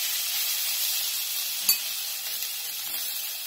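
Cumin seeds, asafoetida and a ginger-garlic-green chili paste sizzling in hot oil in a pan, a steady close hiss with one brief louder crackle partway through.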